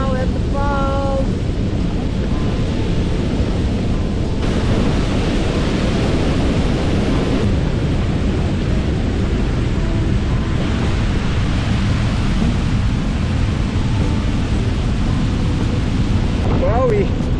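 The Tahquamenon River's lower falls rush with a continuous broad roar of falling water, loud and close, mixed with wind buffeting the microphone.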